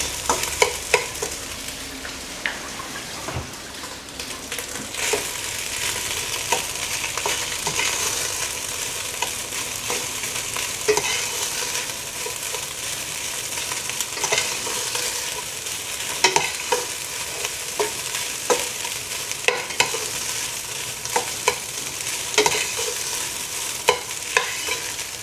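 Garlic fried rice with olive oil and salt sizzles in a pan while being stirred, a continuous close frying hiss with frequent scraping and clinking of the spatula, no talking.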